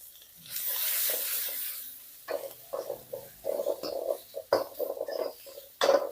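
Capsicum, onion and cabbage stir-fry in a hot pan for crispy soya chilli, a soft hiss with scraping and tossing noises in irregular bursts, close and fairly quiet.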